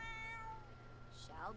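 A cat meows in The Sims 4, its long, pitched cries starting right away and rising again near the end, close and clear over a steady game music bed.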